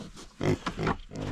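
A pig grunts and oinks on a farm in a few short, close bursts, separated by brief pauses.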